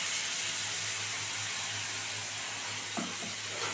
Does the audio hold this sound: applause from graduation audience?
no